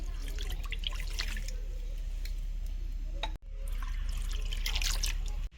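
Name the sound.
water poured into a frying pan with an egg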